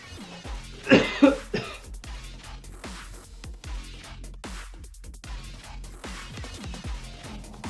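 Several harsh coughs and throat clearing from one person during a Call of Duty live stream: two loud bursts near the start, then fainter repeated hacking and throat sounds over a low background hum, with no talk.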